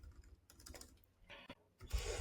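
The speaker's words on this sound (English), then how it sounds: "Now I will remove this, and I will type AI call" Short bursts of quiet clicking come from a computer keyboard, with uneven keystrokes separated by brief pauses and a louder rustle at the end. Nobody talks over it.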